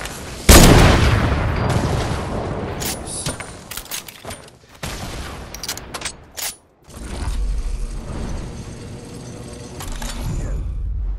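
Grenade launcher fire in a video game, with sharp mechanical clacks and bursts followed by heavy booms, loud and uneven with brief dropouts, then a rumbling stretch of continued firing.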